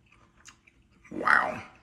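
Someone takes a bite of a sloppy joe and chews it close to the microphone, a short moist crunch that swells and fades after a moment of quiet.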